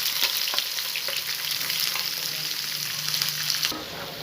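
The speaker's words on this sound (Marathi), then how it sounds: "मोहरीचा आवाज यायला लागल्यानंतर जिरं घाला। कढीपत्ता, मिरची आणि कांदा।" Mustard seeds, cumin, curry leaves, chili and onion sizzle in hot oil for tarri pohe, a loud steady frying hiss with faint stirring scrapes, close and continuous without talk.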